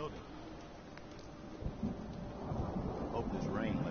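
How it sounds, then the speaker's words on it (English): Steady rain with low thunder rumbling from the Fallout 4 video game, a continuous wash that swells louder in the second half with a deeper rumble near the middle. "Hope this rain lets up."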